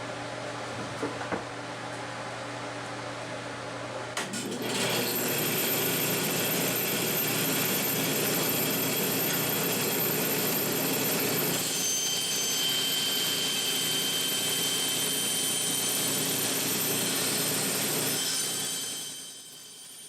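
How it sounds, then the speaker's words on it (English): A bandsaw cuts freehand through a piece of wood in a woodworking shop, a loud steady whining roar that begins after a few seconds of quieter motor hum, holds for about fifteen seconds and then fades as the cut finishes. "I have found that the bandsaw is the best tool for this"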